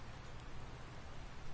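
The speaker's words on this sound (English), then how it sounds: "This seems like it's raining more." Rain falls steadily in a farming video game, a dense, even hiss that holds at constant loudness throughout with no voices over it.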